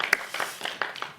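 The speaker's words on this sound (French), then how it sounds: "on peut applaudir M. Lucier." Audience applause at a conference session on discrimination and older people, greeting a speaker with a short burst of scattered, fairly light clapping at moderate distance.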